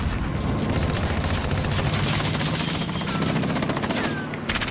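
Sustained rapid gunfire from a Call of Duty Black Ops Cold War match, dense overlapping bursts and automatic fire at loud, steady volume with no pause, briefly thinning at the very end.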